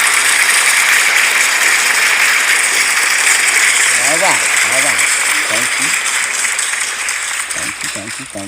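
An audience applauds at a talk on astrology and planets, a dense hiss of clapping that holds loud for several seconds and then thins as a voice begins speaking over it.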